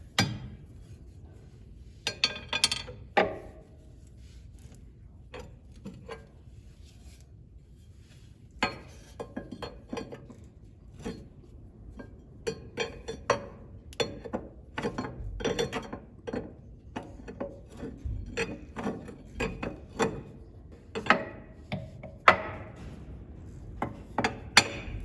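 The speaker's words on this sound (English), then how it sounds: "Basically just using the crowbar, trying to pry down from the top, and we're already getting a little movement on it." Crowbar prying at the front end of an International 986 tractor, with sharp metallic clanks and knocks in irregular bursts, some loud and close, between quieter scraping pauses.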